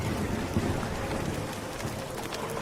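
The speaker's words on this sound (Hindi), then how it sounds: "तभी तेज तूफान आता है" Storm with heavy rain in a Hindi cartoon, a dense, steady hiss of rainfall with faint rumbling, continuous and fairly loud for a few seconds with no talk.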